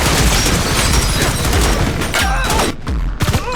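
Dense, sustained assault rifle gunfire with rapid overlapping shots and booms, loud and close, with brief lulls near the end.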